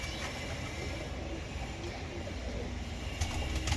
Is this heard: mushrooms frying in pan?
no